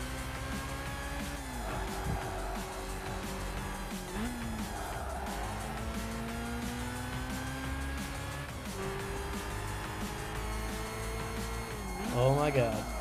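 Racing car engines in Gran Turismo 5 rise and fall through gear changes, with one tire squeal near the end, while someone talks over the race throughout.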